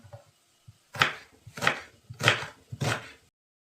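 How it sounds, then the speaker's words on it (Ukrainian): A knife chops onion on a board in four sharp, evenly spaced strikes after a few softer taps, close and fairly quiet, with no voices. "ріжемо цибульку як на засмішку"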